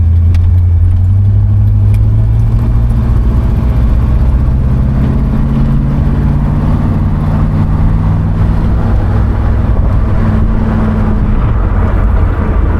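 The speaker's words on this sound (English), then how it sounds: "the exhaust sounds good too" Loud, constant low rumble of a 1972 Buick Skylark's exhaust idling nearby, its deep drone wavering slightly in pitch throughout.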